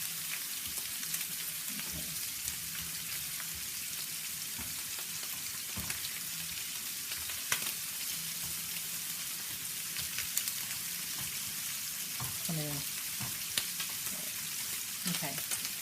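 Shrimp frying in a pan for garlic butter shrimp, a dense steady sizzle with scattered clicks and scrapes as pieces are flipped over.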